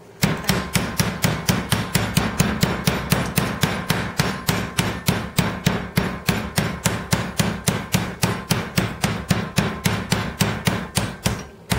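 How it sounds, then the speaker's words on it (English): Rapid, steady pounding of a meat mallet flattening chicken breast against a board, dozens of evenly spaced loud thuds repeating for the whole stretch, close by. "And you just can use any sort of meat pounder."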